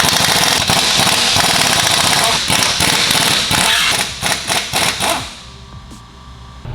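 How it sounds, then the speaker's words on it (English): Air impact gun loosening tight wheel lug bolts in a workshop, a loud continuous rattling hammer that runs for about five seconds with brief stuttering bursts near the end, then stops, leaving quiet background. "we're going to use that air gun to help remove these wheels"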